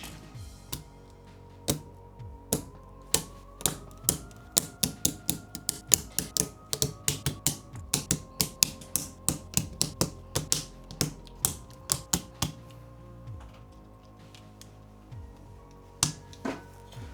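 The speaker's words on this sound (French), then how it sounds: "On va poser les switches directement." Keyboard switches pressed one by one into a magnetic Hall-effect keyboard, sharp plastic clicks and snaps in irregular clusters, close and fairly quiet, with pauses between bursts.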